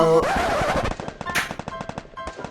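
Rapid automatic gunfire in the mobile battle royale Free Fire, a fast rattling burst of close, sharp shots that thins into spaced individual cracks, with no one speaking.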